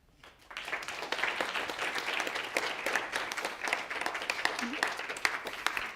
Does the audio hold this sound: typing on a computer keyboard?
no